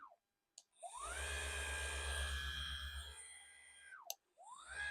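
A round orbital sander with a 150 mm pad whirs up to a steady high whine, runs for a couple of seconds, then winds down, with a second start at the end.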